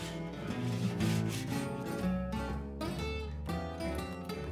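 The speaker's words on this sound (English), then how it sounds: "Then I sand off the sharp edges." Sandpaper is worked over the sharp edges of a wooden piece for an outdoor grill prep station, making close, steady rubbing strokes.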